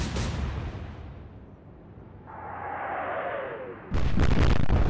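Warship guns firing in the naval video game Atlantic Fleet: a booming salvo fades into a rushing whistle of shells in flight, then an abrupt loud impact blast at the end.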